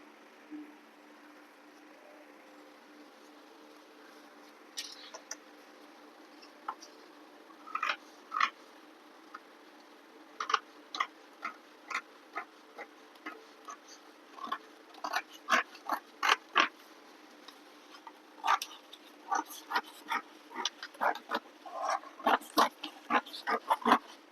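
Scissors cut a princess-cut blouse from fabric with sharp, close snips that come sparsely at first and then in quick clustered runs over a quiet room hum, with no talking.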